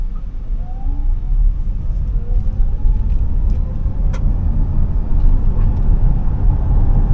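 A Tata Curvv EV accelerates hard, giving a steady close road rumble and tyre noise that builds slightly with a faint rising electric whine, with no engine roar and no voices.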